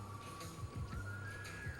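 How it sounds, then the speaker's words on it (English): A thin whistled melody drifts steadily above a soft background of bowling video game sounds and low rumbling, continuous and fairly quiet, in Strike Force Bowling. "I like the little whistling in the background"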